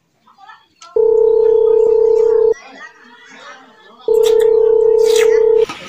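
A steady telephone dial tone sounds twice, each lasting over a second, with a short gap of quieter background voices between them.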